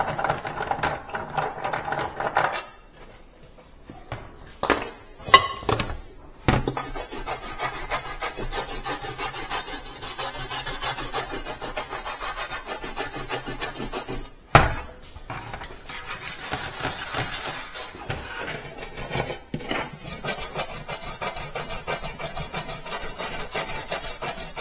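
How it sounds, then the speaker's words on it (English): A half-inch reamer grinds steadily through a hole during a Traulsen freezer repair, a close, continuous rasping scrape that runs almost unbroken, with a few brief pauses and sharp clatters along the way. "Half inch reamer."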